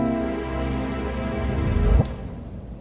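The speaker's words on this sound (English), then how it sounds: "That's just the rain sound effect." A rain sound effect layered into a music beat, a steady wash of falling rain and drops over sustained tonal layers, swelling slightly before cutting off abruptly near the end.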